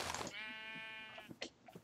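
Sheep bleating in Minecraft: a loud, clear drawn-out bleat with a wavering tone, followed by short scattered clicks and game noises.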